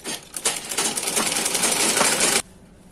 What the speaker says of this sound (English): So now we are just sewing all the way down